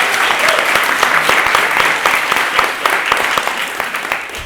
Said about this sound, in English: We really need to give you a round of applause.